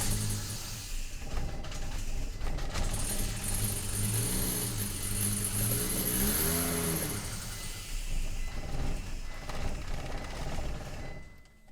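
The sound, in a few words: Volvo car engine attempting to start after suspension repair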